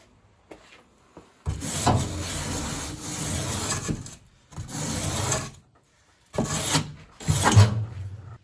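A wire brush scrubs the metal rear body crossmember of a 1955 Buick Special in several separate bursts of harsh rasping, each lasting one to three seconds with short pauses between, close and loud.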